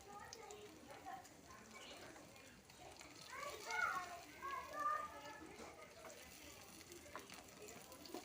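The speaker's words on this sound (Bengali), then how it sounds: "তেলটা ভালো মতো গরম হয়ে গেছে। এখন দিয়ে দিলাম এক এক করে পনিরগুলো, সব ভেজে নিব।" Paneer pieces fry one by one in hot oil, a soft steady sizzle running low beneath continuous nearby talking.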